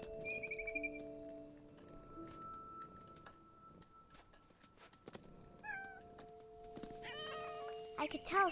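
A cat meows in the video game What Remains of Edith Finch. Several short, close meows and chirrups sound over soft sustained music, with a louder cluster near the end.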